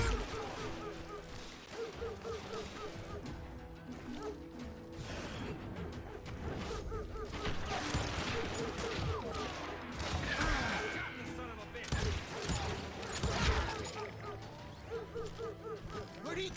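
Gunfire in the Western shooter Call of Juarez: Gunslinger, scattered shots and clattering mechanical noises in a dense, busy game mix with music and a voice heard throughout.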